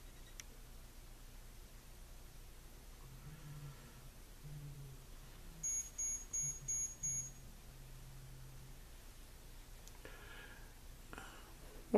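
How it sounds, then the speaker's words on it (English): Unexplained electronic beeping while a vintage 1970s Drake AC4 power supply is worked on: a short burst of about five quick, faint high-pitched beeps over quiet room hiss. "what was that beeping?"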